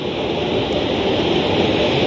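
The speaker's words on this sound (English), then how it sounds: "Sound suppressor water now flowing" Sound suppression water surges beneath the mobile launcher before the Artemis I liftoff, a steady, loud broadband rush like heavy pouring water that holds unbroken and close for the whole stretch.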